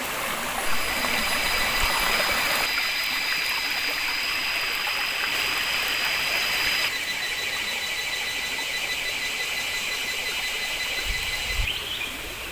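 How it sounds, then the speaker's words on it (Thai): Steady rushing and bubbling of several forest streams joining together, broadband and continuous, with a faint high whine running through part of it. "แยกของลำธาร ซึ่งเป็นลำธารน้ำหลายสายนะครับ มาเชื่อมกัน"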